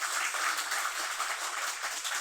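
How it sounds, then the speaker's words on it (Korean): A church congregation applauds to welcome guests during a Sunday worship service, a dense, steady wash of clapping that lasts about two seconds. "잠깐 일어나시면 우리 환영의 박수."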